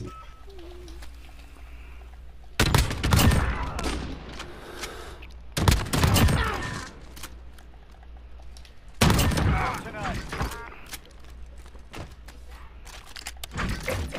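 Bursts of gunfire from a Call of Duty Modern Warfare search-and-destroy match come in several loud clusters separated by quieter stretches, over a low steady game background.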